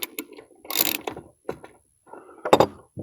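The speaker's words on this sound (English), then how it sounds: "once you get it going, you just use the ratchet" Ratchet clicks come in short bursts as bolts are broken loose on a DR trimmer mower during belt repair, close and moderately loud, with one longer grinding stretch and gaps of quiet between.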